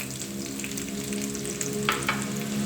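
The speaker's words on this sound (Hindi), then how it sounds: "इन सारी चीज़ों को अच्छी तरह मिक्स करके पका लेंगे" Samosa filling with crushed red chilli, salt, onion powder, crushed coriander and chicken powder being stirred and cooked in a pan, a steady close sizzle with scraping strokes of a spoon throughout.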